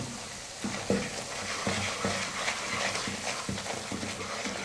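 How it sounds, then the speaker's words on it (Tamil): Gram flour being stirred in ghee in a pan for halwa over a low flame, giving a steady sizzle with repeated scraping strokes of a spoon against the pan, close and continuous. "கடலை மாவு சேர்த்துட்டு கைவிடாமல் கலந்து கொடுத்துக்கிட்டே இருங்க"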